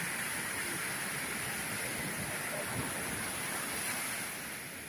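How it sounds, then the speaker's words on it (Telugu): Ocean waves at Padubidri Blue Flag beach in Karnataka, a steady broad rush of surf washing in, close and continuous with a wind-like hiss, easing slightly at the end, no voices. "చూడండి ఎట్లా వస్తుంది అలలు"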